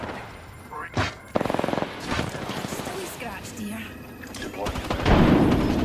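Video game gunfire in a tense firefight: a quick rattling burst of rapid shots, then scattered shots and impacts beneath ongoing talk and game effects.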